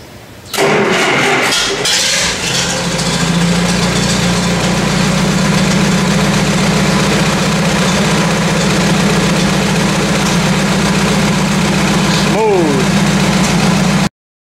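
An old four-cylinder tractor engine cranks and catches, then settles into a steady, loud, low chugging idle that runs continuously, with a brief squeal near the end.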